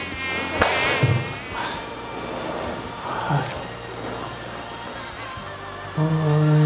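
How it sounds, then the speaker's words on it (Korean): Close, high-pitched mosquito whine drones steadily indoors, with a few dull knocks and a louder burst near the end. "또 이렇게 모기가,"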